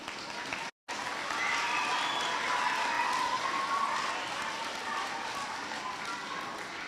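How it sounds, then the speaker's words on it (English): A school audience applauds a class at a track event with dense, continuous clapping from a large crowd. It runs loud and even throughout, with only a momentary dropout near the start. "One more round of applause for them."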